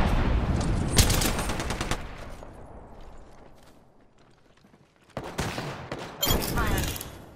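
Gunfire in the video game Apex Legends, with rapid bursts of close, loud automatic shots, a quieter gap with faint mechanical sounds, then more bursts toward the end.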